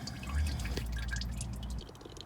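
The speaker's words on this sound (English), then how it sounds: "I'm just gonna twist it, let the oil drain as much as it can, and then pull it down." Engine oil drains from the loosened oil filter of a 2017-2019 Hyundai Elantra during an oil change, making a soft continuous trickle and dripping under a low, steady background rumble.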